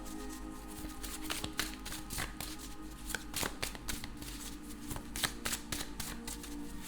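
Tarot cards are shuffled by hand in quick, repeated riffling bursts with soft taps between them, close and steady, with no one talking.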